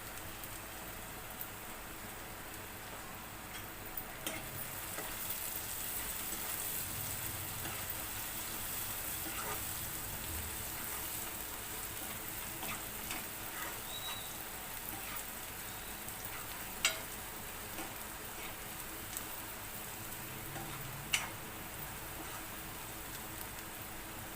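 An egg fries in a pan with a steady, even sizzle and hiss throughout, broken by a couple of sharp pops near the end.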